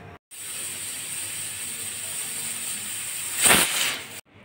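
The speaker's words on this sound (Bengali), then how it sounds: "এখন আমি প্রেশার কুকারে দুটো সিটি দিয়ে নামিয়ে নেব" A pressure cooker lets off a short, sharp burst of hissing steam near the end, loud and close, after a steady background hiss.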